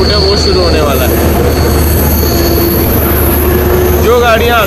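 A passenger train on the scenic Guwahati to Badarpur line near Maibang runs loud and close, with a constant rumble, high steady wheel squeal and brief squeaks near the end.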